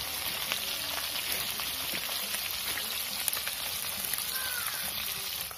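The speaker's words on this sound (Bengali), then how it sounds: "আমি বসেছি মাছ ভাজতে" Fish frying in oil in a pan over a clay stove gives a steady, dense sizzle and crackle throughout, with faint background voices now and then.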